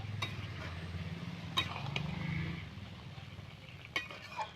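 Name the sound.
stirring cauliflower stem vegetables in a pot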